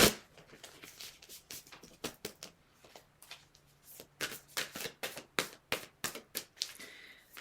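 Tarot cards being shuffled by hand, heard close up as a rapid series of crisp riffling taps and flicks that come in uneven bursts, with no talking over them.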